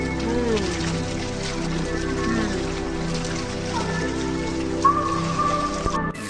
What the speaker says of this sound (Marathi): आता पाऊस जरा संध्याकाळ पर्यंत बघूया आपण किती पाऊस पडतो इथं.